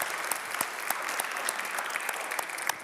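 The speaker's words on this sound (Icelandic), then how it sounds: "Við klappa fyrir því." A church congregation claps during a Sunday service, steady moderate applause with individual sharper claps standing out, fairly soft and continuous for a few seconds.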